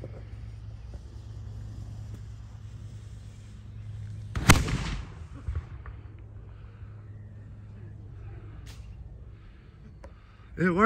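A homemade firework rocket launches outdoors with one sharp whooshing burst over a steady engine-like hum, followed by faint pops and a rising noise at the end.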